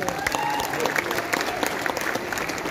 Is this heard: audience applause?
yes